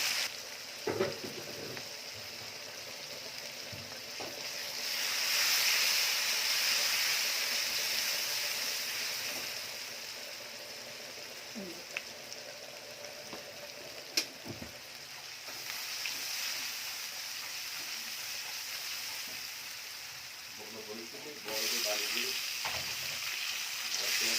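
Fish fries in a pan with onion, garlic, salt and turmeric, giving a low continuous sizzle. Occasional utensil knocks and stirring scrapes break the sizzle, and it swells louder at times.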